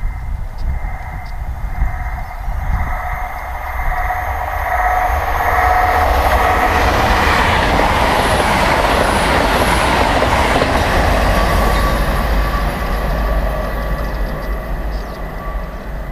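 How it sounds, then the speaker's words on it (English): Class 802 Nova train bound for Edinburgh via Newcastle passes a footpath level crossing near Beningbrough, a loud rushing roar that builds and stays heavy with rumbling wheel noise and rail squeal, close by. "A Nova Series Class 802, number 802212, passes to Edinburgh via Newcastle."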